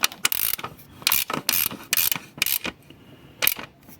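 A ratchet tightens a thermostat on a 1.9 8V or 2.4 10V JTD diesel engine, giving short, close bursts of sharp clicking separated by brief pauses, with no talking.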